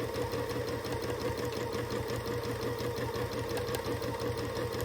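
A sewing machine hums steadily and continuously during free-motion quilting, its rapid needle stitching forming an even, close mechanical drone with no voices.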